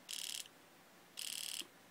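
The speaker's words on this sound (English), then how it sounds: "You can hear the main solenoid clicking." The main solenoid of a PolarStar airsoft AR trigger fires two short bursts of rapid, buzzy clicking separated by a pause, close up and fairly quiet.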